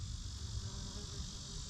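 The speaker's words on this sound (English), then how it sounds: "Look at the bee, they just climb right in there." A bee buzzes steadily and close while it climbs into a balsam flower in a garden, forming a continuous insect drone with no talk.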